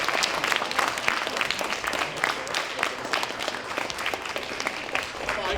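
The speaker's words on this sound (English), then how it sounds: "How about a round of applause for this?" An audience at a speech for a Winners Circle mentoring program breaks into fairly soft, steady applause, with individual claps audible through the crowd and holding evenly throughout.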